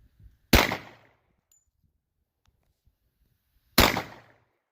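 Two loud, sharp .45 ACP pistol shots from a Ruger SR1911 Lightweight Commander loaded with Federal 185 grain rounds, spaced about three seconds apart, each with a short decaying tail and quiet between.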